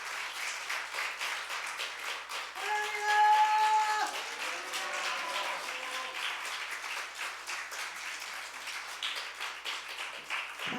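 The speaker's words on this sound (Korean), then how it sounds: "우리 나오실 때 박수로 환영해 주시면 감사하겠습니다" A church congregation applauds in welcome during a Sunday morning service, a steady wash of clapping over about ten seconds with a louder swell near the middle and a few sustained musical tones running underneath.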